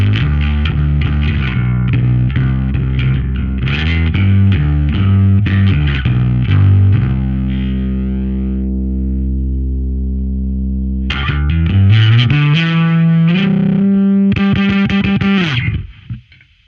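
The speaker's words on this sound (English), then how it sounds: "But then we turn it all the way up, it's going to be only the overdriven signal." Bass guitar played through a Darkglass Alpha Omega overdrive pedal set fully overdriven, loud gritty distorted notes and riffs with a sustained ringing chord in the middle, then a final abrupt cutoff.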